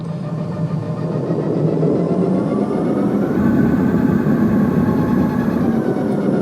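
A continuous, dense sci-fi spaceship engine drone hums at a steady loud level, a synthetic rumbling game-audio loop with a slight swell partway through.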